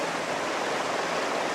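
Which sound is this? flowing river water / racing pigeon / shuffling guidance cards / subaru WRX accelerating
flowing river water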